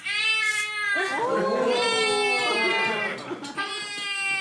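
A human voice imitates a cat's cry with a drawn-out, wavering meow-like wail that rises and falls in pitch, loud and close, in a storytelling performance of Korean oral tradition.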